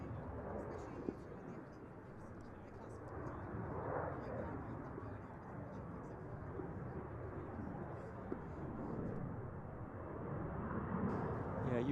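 A Spanish Navy EAV-8B Matador II+ Harrier jet performs a rolling vertical landing at an air display, producing a continuous, broad roar that swells slightly, with voices faintly present underneath.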